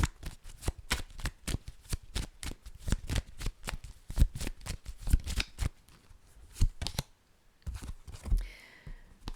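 A deck of crystal cards is shuffled by hand for a reading, a close, brisk run of rhythmic riffling flicks that slows and thins out toward the end, with no talk over it.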